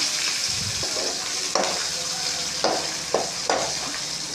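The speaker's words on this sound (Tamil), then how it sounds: "ஒரு வெங்காயம், 3 பச்சை மிளகா, கொஞ்சமாக கருவேப்பிலை போட்டு நல்லா தாளிச்சுக்கோங்க." Onion, green chilies and curry leaves frying in oil for a green gram curry, a steady close sizzle broken by a few distinct stirring scrapes, with no speech.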